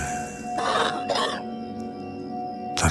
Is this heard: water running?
no